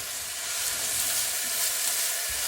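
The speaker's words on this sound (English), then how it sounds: "And as I saute it, you're going to see it come together." Oyster mushrooms sauté with a little honey in a pan, giving a loud, continuous close-up sizzle with faint stirring underneath.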